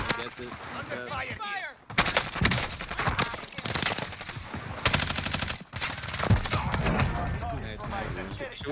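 Rapid bursts of gunfire fill a Call of Duty Warzone match with an MP5 submachine gun, dense and continuous with short breaks, while players talk over the shooting.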